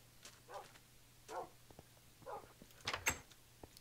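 Tamed dogs in the Minecraft video game give a handful of short, separate barks, spaced about a second apart and fairly faint, with two quicker yips bunched together near the end.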